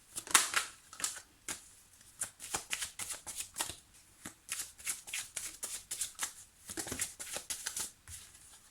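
Tarot cards are shuffled by hand, a close series of quick papery riffles and slaps repeating in an irregular rhythm, with no talk over them.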